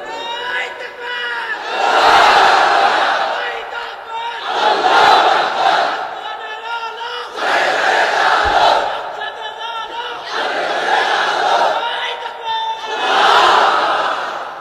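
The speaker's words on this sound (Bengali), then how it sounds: "তাকবীর পড়েন তো দেখি, আল্লাহর নামে পড়েন, লিল্লাহে তাকবীর।" A large crowd at a religious rally chants the takbir in loud, swelling roars, about five rhythmic waves of massed voices rising and falling, with the leader's call between them.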